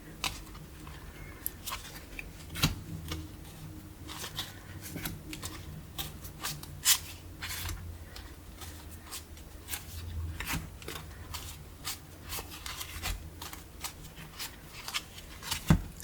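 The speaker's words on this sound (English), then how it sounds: "I've shuffled them quite a bit." Quiet papery riffling and soft clicks of Cards Against Humanity cards being shuffled repeatedly at close range, in uneven bursts.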